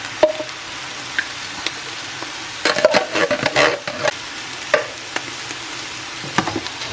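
Crushed tomatoes being stirred in a frying pan, with scraping spoon strokes over a soft, steady sizzle that bunches into a busier stretch midway before settling back.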